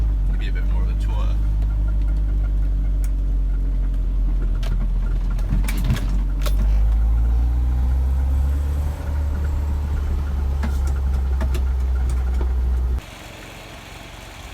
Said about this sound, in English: Sort of here the engine's sounds pretty normal. It does run pretty nicely.